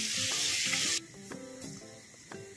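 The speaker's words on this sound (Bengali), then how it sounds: "পেঁয়াজটা হালকা ব্রাউন করে ভেজে নেব" Chopped onions fry in hot oil for a Bengali-style boal fish curry, giving a bright, loud sizzle for about a second before the sound drops to a quieter background with soft tonal notes.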